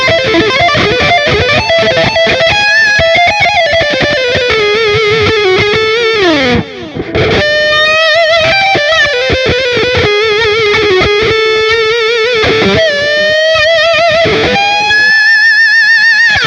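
Metal guitar on a Line 6 Dream Rig with distortion, mid boost and delay all engaged, playing a long run of loud, sustained, sliding and bending lead notes, dense and continuous with a brief dip midway.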